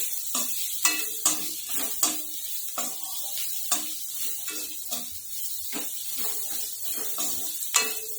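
Salt and chili are stirred into hot tempering oil, the spoon knocking and scraping the pan in irregular close strokes over a continuous sizzling hiss, with no voices.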